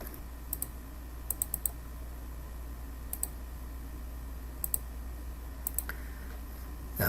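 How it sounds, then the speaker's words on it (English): Someone types numbers into a calculator: soft, quiet key clicks in short clusters and single taps with pauses between, set against a faint steady background hum. "So now we'll type that into our calculator."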